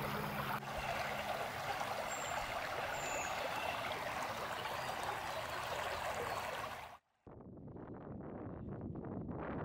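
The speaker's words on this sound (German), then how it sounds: "Kurz vor der Talsperre Lichtenberg ist aus dem kleinen Rinnsal schon ein ansehnlicher Bach" A small brook flows near the Lichtenberg reservoir with a steady, broad rushing wash and some wind buffeting the microphone. A brief cut of near-silence comes before the flow resumes.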